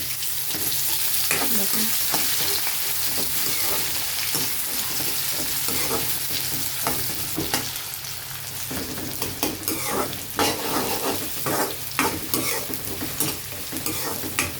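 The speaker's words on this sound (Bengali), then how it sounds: "তো এই যে রসুন পেঁয়াজ আমি এখন এগুলো এখন ঢেলে দিয়ে দেবো, দিয়ে দিলাম" Garlic and onion tipped into hot oil and stirred, a loud continuous sizzle with frequent scraping clicks of the spoon against the pan, and a voice briefly speaks over it.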